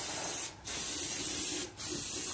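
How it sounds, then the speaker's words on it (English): Aerosol brake cleaner sprayed onto a 1938 Ford truck chassis, a loud continuous hiss broken by two short pauses as the nozzle is released and pressed again, with no voices. "So I'm just gonna use a few cans of this brake clean, rinse all the greasy prints off of this"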